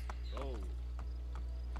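In the Assassin's Creed Brotherhood video game, a horse's hooves clop in an uneven rhythm, and a short rising whinny-like cry sits over a steady low electrical hum.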